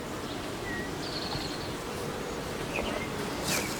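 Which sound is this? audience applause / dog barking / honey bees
honey bees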